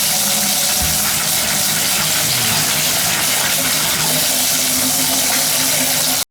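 Water from a running shower pours steadily into a tub drain that has been backing up, a constant loud rushing gush that continues without a break and cuts off abruptly at the very end.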